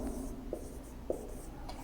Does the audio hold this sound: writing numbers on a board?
yes